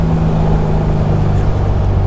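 A 1971 VW Beetle Convertible's engine hums steadily with a low, throaty exhaust drone, close and continuous with no talk.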